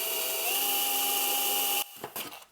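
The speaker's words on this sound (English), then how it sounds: "Now we go with the final size drill bit." A power drill bores through the metal chassis of an all-tube phono preamp, a loud, steady whine held for nearly two seconds before it cuts off, followed by a few short bursts and clunks.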